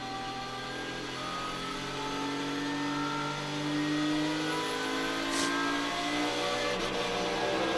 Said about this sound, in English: On board with Ammermuller, behind the safety car.